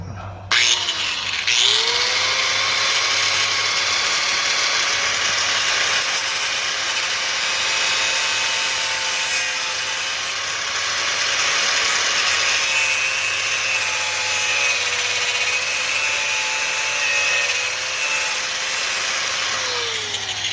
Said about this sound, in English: I was putting a slice in it with the die grinder